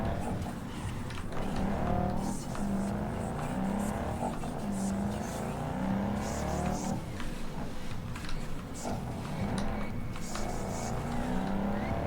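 A car drives through Night City at night in the video game Cyberpunk 2077, with a steady engine drone and occasional revving swells continuing evenly throughout at moderate level, with no voices.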